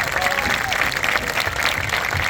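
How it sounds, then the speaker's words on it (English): Audience applause at an 8th grade marching band performance in a school setting, a dense steady wash of clapping from a crowd, loud and continuous throughout without a break. "Can we give them a big round of applause?"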